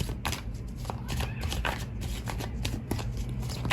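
Tarot cards being shuffled make a soft, quick papery riffle and flutter that runs on without pause at low volume.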